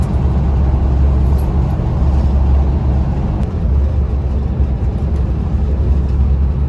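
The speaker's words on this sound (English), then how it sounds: "Now on the bus to Dublin Airport." A bus heading to Dublin Airport rumbles along with a deep, steady engine drone and road noise, loud and continuous from inside the vehicle, with no one speaking.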